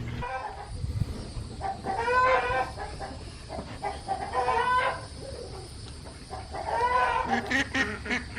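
Ducks and chickens in a barn, with repeated bursts of loud clucking and quacking from a close flock, rising and falling in several rounds over constant background noise.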